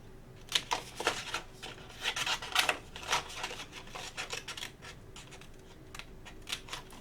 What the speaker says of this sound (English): And then you're just going to cut out on your line.